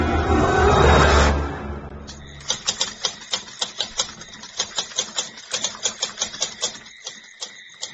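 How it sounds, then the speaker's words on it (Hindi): Rapid typewriter keystrokes clack in an uneven rhythm, close and crisp, following a brief burst of broadband noise at the start. "टाइपराइटर की बटन दबने की आवाज सुनाई दे रही थी।"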